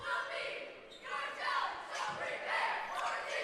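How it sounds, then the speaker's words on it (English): Cheerleaders perform their opening cheer at a high school basketball tournament semifinal, a chorus of voices shouting in rhythmic bursts over a gym crowd, fairly close and lively. "As you see the Indians cheerleaders here doing their opening cheer."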